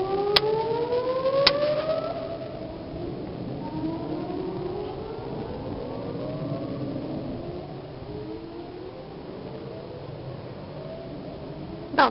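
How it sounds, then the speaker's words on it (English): Tornado civil defense siren under monthly test in Louisville, Texas, wailing with slow rising and falling tones, distant and sustained across the whole stretch, with no voices. "they are testing the tornado sirens."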